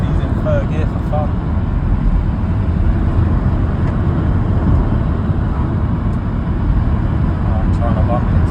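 A rebuilt VW T4 van with a 2.5 ACV engine tuned to about 270 bhp pulls hard in third gear, a loud steady drone and road rumble from inside the cab with voices talking over it.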